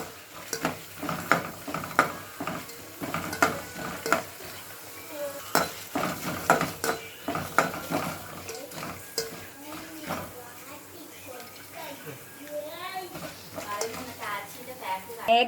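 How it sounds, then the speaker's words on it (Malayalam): Chana dal, urad dal and peanuts are sautéed in a pan for Chennai-style tamarind rice, with steady sizzling and frying under repeated sharp clinks and scrapes of a spoon stirring against the pan. "ശേഷം കുറച്ച് കടലപ്പരിപ്പ്, ഉഴുന്ന് പരിപ്പ്, നിലക്കടലും കൂടി ഇട്ട് ഒന്ന് വാട്ടി കൊടുക്കാം."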